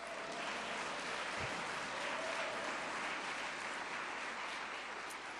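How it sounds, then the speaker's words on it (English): An audience applauds steadily at a Seniors for Biden political event in Reno, Nevada, a dense, even patter of clapping heard from a distance without any voices. "yes, clap for that"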